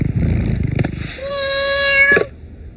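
A cat meows and caterwauls loudly in a drawn-out, rising wail, close by, following a noisy stretch of background sound.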